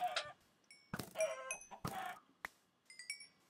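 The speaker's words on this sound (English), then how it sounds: "Kill more of these chickens." Chickens cluck in the Minecraft video game, several short bursts of clucking and squawks scattered over a few seconds, fairly close with quiet gaps between.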